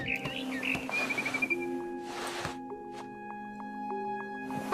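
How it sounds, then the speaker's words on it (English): Barn swallow chirping in the video game What Remains of Edith Finch, short high tweets and chirps scattered over soft game ambience and tonal music, moderately quiet and close. "Then I heard chirping outside my window. It was a barn swallow going back to her nest."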